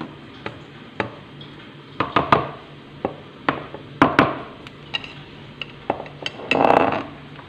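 Cream and ice cream powder being mixed together in a bowl, a utensil clinking and scraping against the bowl in irregular sharp taps with a brief rougher stirring burst near the end, close and moderately loud.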